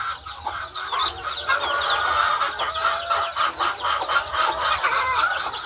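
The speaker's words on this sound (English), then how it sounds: "This is my Australorp Rhode Island Red hybrid chicks." Young Australorp and Rhode Island Red hybrid chicks cluck and chirp continuously at close range, a busy overlapping chatter of many small birds with no talking.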